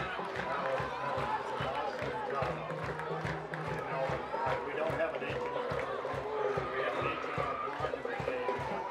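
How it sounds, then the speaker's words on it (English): A home crowd roars and claps after a high school football victory at the Panther Harold M. Clark Stadium, Concordia against Beloit. The dense, steady cheering goes on throughout with scattered claps, and voices talk over it. "The Panther Harold M. Clark Stadium is celebrating like I've never seen before."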